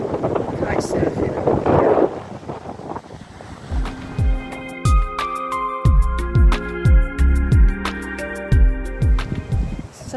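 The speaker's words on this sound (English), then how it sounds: "It's extremely windy here today." Strong wind at a beach rushes and buffets against the microphone, loud and gusty, with a person talking over it and low rumbling thumps later on.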